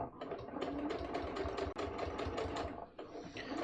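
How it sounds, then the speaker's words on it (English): A sewing machine runs steadily, top stitching along the fly of a pair of pants, its rapid needle rhythm close and continuous with one brief pause near the middle. "all I'm going to do is stitch up here"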